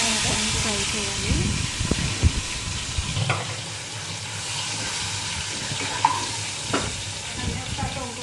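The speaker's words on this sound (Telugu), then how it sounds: "తర్వాత నెత్తళ్ళని ఫ్రై చేయాలి" Dried fish frying in a pan for an egg and dried-fish curry, a steady sizzle and hiss with occasional stirring scrapes, fairly close, no talk.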